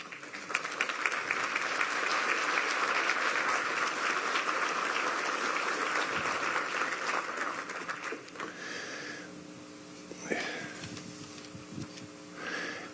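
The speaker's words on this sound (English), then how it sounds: "we'll give you a great big round of applause" Sustained applause from a crowd at a West Virginia government economic development hearing, a steady dense patter of clapping that holds for several seconds before thinning out near the end.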